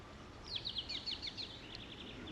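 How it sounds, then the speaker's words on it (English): Birds by a clear river at Cantaro, Trinidad, give a quick run of about eight high, thin chirps over soft outdoor background noise, fairly faint and distant. "You don't see anybody except for the birds."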